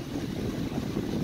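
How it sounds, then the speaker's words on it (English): Wind buffets the microphone in a steady, loud low roar with no other sounds standing out. "It's really windy out here"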